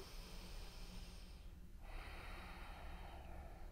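Deep breathing during a yoga pose for scoliosis, a slow airy breath drawn in and let out close by, quiet and alone.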